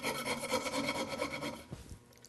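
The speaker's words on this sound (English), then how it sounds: "I'm gonna go get a putty knife, clean up a bit of that glue" A putty knife scrapes dried glue off a wooden mortise-and-tenon joint in quick rhythmic strokes, close and fairly quiet, with a couple of small knocks at the end.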